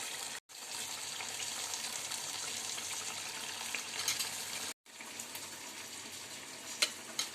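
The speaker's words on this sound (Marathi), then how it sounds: "बारीक गॅसवरच आपल्याला फ्राय करून द्यायचे" Suran, elephant foot yam, fries gently in a pan over a low flame, making a soft continuous sizzle with light stirring scrapes and two brief dropouts into silence.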